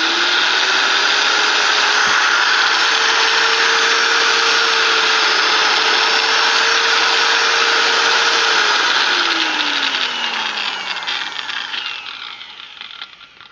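A 4-1/2 inch heavy duty angle grinder runs steadily at full speed with a loud, close whine, then its pitch drops as it spins down and fades near the end.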